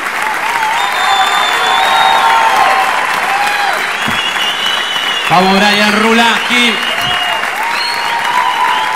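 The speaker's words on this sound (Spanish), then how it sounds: "Reciban con un fuerte aplauso a Nicolás de Trastín." Audience applause and cheering fill a theater comedy show in Santa Fe as a comedian is welcomed to the stage, loud and sustained, with a voice speaking over it partway through.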